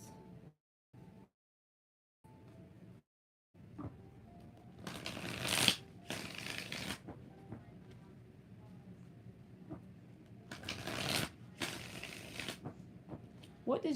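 Tarot cards are shuffled in several separate bursts, a crisp riffling rush near and fairly loud, with quiet pauses between them and a voice speaking softly around them.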